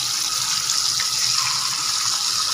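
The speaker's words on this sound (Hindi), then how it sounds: "अब वक्त है इसमें मछलियाँ फ्राई करने का" Fish frying in hot oil, a steady, loud, close-up sizzle with a constant hiss of spattering oil and no breaks or voices throughout.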